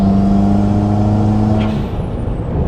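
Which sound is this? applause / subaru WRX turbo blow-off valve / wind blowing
subaru WRX turbo blow-off valve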